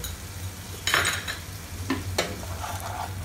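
Tamarind paste and jaggery being stirred into masala frying in a pan, a steady low sizzle broken by several scraping, clinking strokes of a spoon against the pan, no talking.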